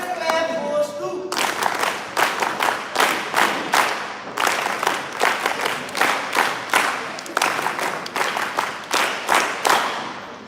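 Loud audience clapping at a National Service Scheme (NSS) West Bengal event comes in a rhythmic group pattern of sharp repeated bursts with short pauses. A brief tonal sound precedes it.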